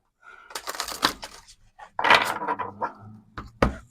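A deck of Moonology oracle cards is shuffled by hand, giving close, crisp riffling and tapping bursts in two main clusters with brief pauses between them, followed by a final sharp tap.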